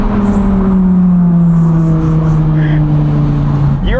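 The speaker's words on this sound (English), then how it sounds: "You're in a yellow Lamborghini with a straight pipe exhaust." A yellow Lamborghini with a straight-pipe exhaust drives through a quiet village, its loud, steady engine drone sliding slightly lower in pitch as it cruises close by.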